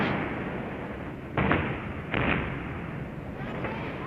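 Artillery fire in Vietnam War-era film: two or three heavy, muffled booms rise out of a constant dull rumble, sounding distant and compressed like old archival recording.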